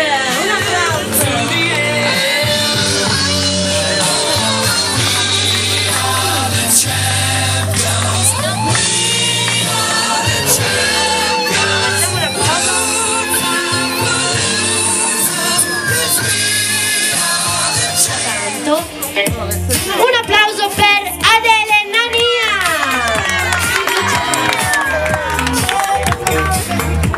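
A contest audience at an Italian pageant event, with a crowd applauding and cheering loudly under thick music and announcer noise, sustained and dense throughout, then thinning slightly toward the end.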